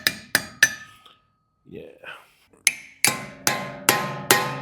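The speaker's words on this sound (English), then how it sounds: "we'll hammer it in there" A hammer drives a steering part into a rat rod build, striking metal sharply in a quick burst of three blows, a pause with a brief word, then five more ringing hits.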